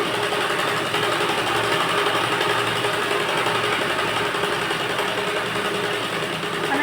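Sewing machine stitching a blouse, a steady, continuous motorised whir with fast rhythmic needle chatter, close and loud throughout without talk.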